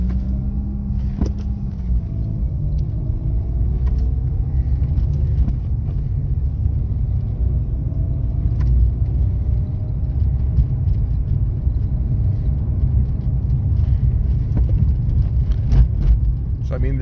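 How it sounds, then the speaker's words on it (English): A Series 2 Mazda RX-8, a 2011 model with a rotary engine, driven in cold weather, giving a steady low engine rumble and road drone that stays loud and constant throughout, with a faint voice over it at times. "this is what it's like to drive a Series 2 RX-8 when it's cold"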